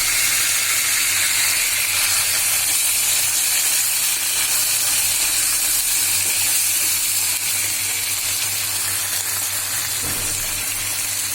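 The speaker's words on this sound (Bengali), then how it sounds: "চিংড়ি মাছ ও পেঁয়াজ একসাথে ভাজি" Prawns and chopped onion frying together in a pan make a loud, steady hiss of sizzling oil that carries on without a break, close up, with no voices.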